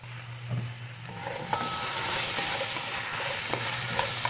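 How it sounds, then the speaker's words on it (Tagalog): Squash sautéing in a pan with tomatoes for a mung bean dish, being stirred. A steady close sizzle and hiss runs under a few light scrapes, with a faint low hum in the background. "ginagisa ko itong kalabasa"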